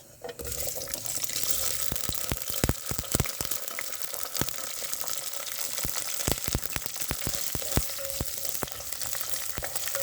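Fenugreek, mustard seeds, pepper, shallots, garlic and curry leaves fry steadily in hot oil for a salted fish curry, a continuous close sizzle broken by sharp crackles and pops, with occasional stirring and no voices.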